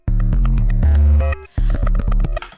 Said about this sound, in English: And I decided on this broken pedal preset